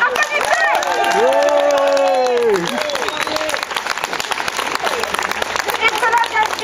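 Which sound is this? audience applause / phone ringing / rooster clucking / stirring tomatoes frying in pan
audience applause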